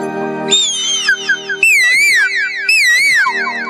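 A person on stage imitates an Asian koel's rising, repeated whistling call, several loud looping phrases in quick succession over a steady background hum.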